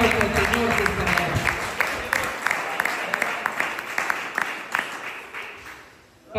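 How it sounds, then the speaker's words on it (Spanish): A church congregation applauds, a dense burst of clapping that gradually thins and fades over several seconds, with a voice speaking over it near the start. "Denle ese aplauso al Señor por favor"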